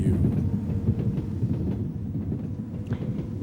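Train pulling out of a station, a steady low rumble with faint rail clatter throughout, fairly close and alone without talk.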